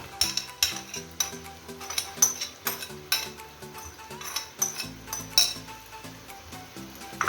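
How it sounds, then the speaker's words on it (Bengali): Cashew nuts tossed into a pan for a chicken cashew nut salad and stirred, giving repeated close clinks and scrapes of utensil on metal with a light sizzle, over steady background music. "এবার দিয়ে দেবো আমার ক্যাশিউ নাট বাদামটা।"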